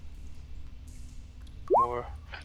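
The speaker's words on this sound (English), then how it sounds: "More poop sounds hitting the water." A single wet plop or drip sounds as an effect during a tabletop game session, one short upward-bending splash against a low background hum.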